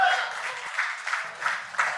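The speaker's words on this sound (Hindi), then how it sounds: "लेडीज एंड जेंटलमैन जोरदार तालियां फॉर द जेंटलमैन." Audience applause at a film music launch event, a broad wash of clapping with a few swelling bursts, fairly distant and steady over about two seconds with no voices on top.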